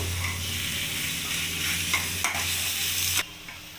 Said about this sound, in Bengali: আলুটা সবজির সাথে ভালো করে মিক্সড করে নেব